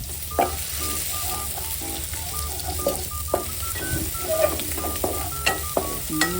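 Chili and garlic sizzle steadily in hot oil while a spatula stir-fries them, with frequent sharp scrapes and taps against the pan over continuous frying hiss.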